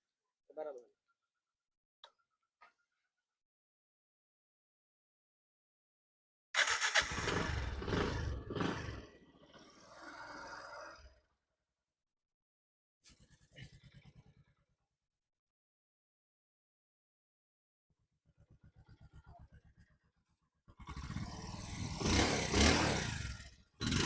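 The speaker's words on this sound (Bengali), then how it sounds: "এখন এই গাড়িটার একটু ইঞ্জিন সাউন্ড একটু শুনে দিই, দেখেন।" A 2020 Bajaj Discover 125 cc motorcycle in like-new condition is revved in several loud, close bursts lasting a few seconds each, with near silence between them.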